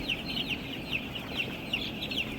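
Six-day-old chicks in a brooding house, a dense chorus of high, thin peeping calls repeating constantly from many birds at once, close by over a low background hum.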